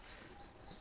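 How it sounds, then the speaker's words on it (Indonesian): An old domestic pigeon giving its courting coo, a soft, low, rolling murmur that is faint and brief against a quiet outdoor background. "Nah, ini giringnya keras bukan? Nah, ini merpati tua tuh."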